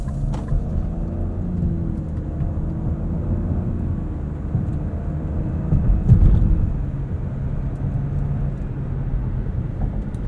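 Interior cabin drone of a 2023 Nissan Rogue Platinum AWD with a CVT, a steady low engine and road rumble with faint harmonic tones shifting gently, swelling briefly midway, no talking.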